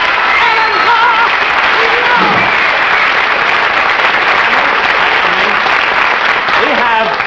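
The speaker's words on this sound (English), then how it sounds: "Let's give him a big hand." A studio audience at the Texaco Star Theater television show applauds the orchestra conductor Alan Roth, a loud, steady wash of clapping that fills the whole stretch without a break.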